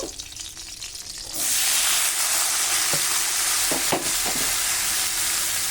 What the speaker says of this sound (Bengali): আমি এই তেলটার মধ্যেই এখন আমি মুলোটা দিয়ে দেবো